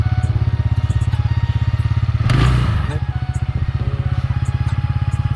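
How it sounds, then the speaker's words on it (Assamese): A scooter engine runs right up close after a kick start, chugging in a fast, even pulse. A louder burst comes midway, then it settles back to a steady idle. "তো মই মাৰোঁ কিক, একে কিকে ষ্টাৰ্ট হৈ গ'ল।"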